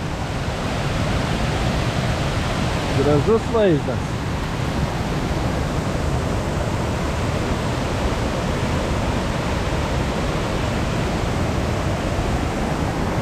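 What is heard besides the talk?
waterfall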